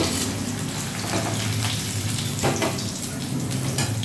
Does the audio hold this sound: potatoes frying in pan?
yes